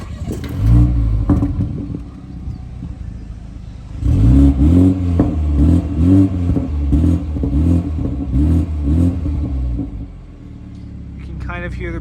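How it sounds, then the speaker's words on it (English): BMW 330i base model in sport mode, its exhaust rumbling and burbling from behind the car in a steady pulsing run of pops between about four and ten seconds, with a person talking over a lower idle before and after. "Kind of hear the burbles in sport mode."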